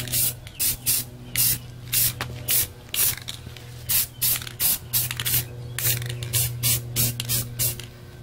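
Repeated short hissing bursts from a spray gun laying a light coat of paint on a car under a carport cover, about twenty evenly spaced blasts over a steady low hum.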